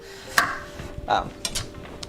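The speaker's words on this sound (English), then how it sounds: "chopping our broccoli into the general shape and size of gailan" Broccoli is chopped into gailan-sized pieces for a rice noodle wok stir fry, giving a few sharp, irregular knife strikes on a board close by, with light kitchen clatter between them.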